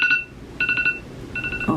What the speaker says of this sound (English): an alarm reminding me to do something